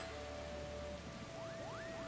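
Steady rain in Final Fantasy XIV falls as a soft, even hiss throughout, faint and continuous, with thin tonal game sounds layered on top and no voices.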